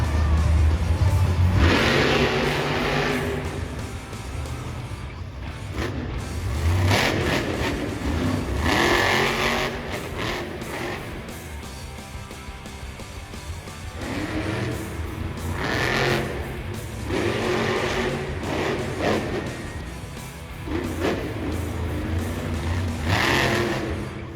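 A monster truck roars into the arena at a Monster Jam show, its engine revving loudly in repeated surges and bursts over a noisy stadium backdrop.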